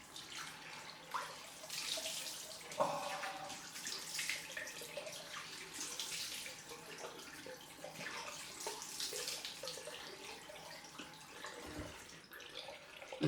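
Cold tap water runs into a bathroom sink while someone splashes it onto their face after a shave, a continuous gentle rush with small splashes and drips, fairly quiet and without speech.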